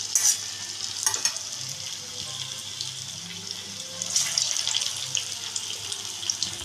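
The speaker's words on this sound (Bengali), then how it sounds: "এইভাবে আমি সবকটা চপ ভেজে নিচ্ছি" Puffed rice pakoras fry in hot oil, a continuous close sizzle with occasional stirring scrapes and brief bursts of louder crackle.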